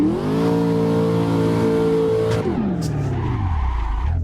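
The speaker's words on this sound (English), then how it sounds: "So drifting in VDC ACS NOLA with the Corvette C6." Corvette C6 drifting in Assetto Corsa on the VDC NOLA track, a loud sustained engine note with tyres skidding, then the revs drop and the pitch slides down as the car settles, no talk.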